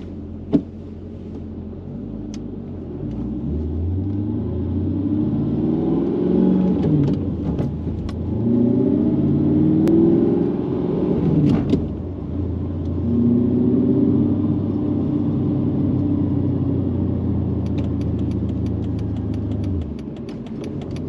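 A Mercedes C55 AMG with a six-speed manual gearbox driving in traffic, its engine a deep steady rumble from inside the cabin that rises and falls gently with throttle, no talking over it.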